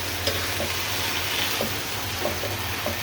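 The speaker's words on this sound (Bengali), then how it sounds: "এখন আমি সুন্দর করে নেড়ে চেড়ে তলে যাতে না লেগে যায় সেইভাবে ভালো মতো নেড়ে চেড়ে দিব" Leafy greens sizzling in a pan over a medium flame as they are stirred, a steady close frying hiss broken by small scraping taps, with no talking.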